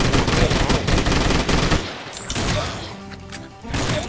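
Loud, rapid automatic gunfire from a gun in the Swamp Attack video game hammers out in a dense burst. It breaks off partway through, then resumes as scattered shots.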